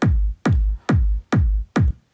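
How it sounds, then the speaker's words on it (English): A big room techno kick drum sample without its top kick layer, five deep booming hits with a sharp click attack and long low tail, evenly spaced and loud, with no other sounds. "So let me first play the kick without the top kick."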